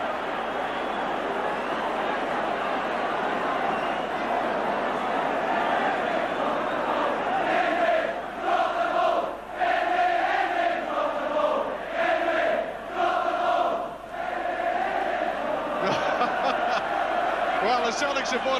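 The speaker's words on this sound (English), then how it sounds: "You can hear from the crowd he didn't like that decision." A football crowd in the 1988-89 season, the Celtic support among them, roars and jeers at a referee's free kick decision, a loud sustained wash of voices swelling in rhythmic surges over the middle stretch.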